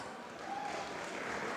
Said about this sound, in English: Forum Civ, a lot of applause.